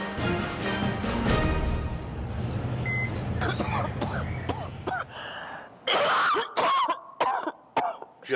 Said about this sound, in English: She coughs all night.